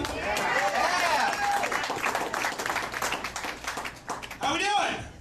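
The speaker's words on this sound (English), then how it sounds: "how about a round of applause for Pat Chase" Audience in a comedy club at the Boxcar Comedy Showcase breaking into a dense round of applause that thins out and then swells again briefly, with some voices mixed in.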